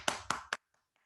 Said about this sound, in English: can we give Miss Marilee Isaac a round of applause?